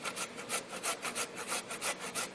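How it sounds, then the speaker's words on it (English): Beets being grated for borscht, a quick run of about ten rhythmic rasping strokes against a grater, close and clear with no talk. "So we're just going to go like this and just grate. Grate it in."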